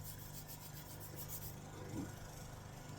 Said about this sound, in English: Rub it in with my fingers, spill a little.